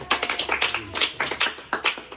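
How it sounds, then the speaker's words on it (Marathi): A crowd at a special-needs school's Children's Day event in Pabal, Shirur, Pune gives a round of applause to welcome guests, with steady rhythmic hand claps close by. "पुन्हा एकदा जोरदार टाळी वाजवून यांचं स्वागत करायचं"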